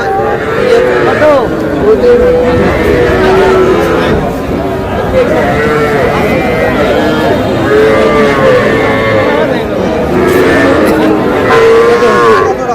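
Young bulls and heifers low repeatedly at a busy livestock market in Chandpur, Bangladesh, their drawn-out moos rising over constant chatter and shouting voices nearby.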